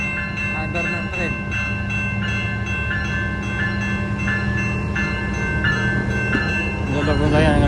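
A train rumbles past overhead in New York with a steady rolling drone and periodic clacking over the tracks, continuous and fairly loud throughout.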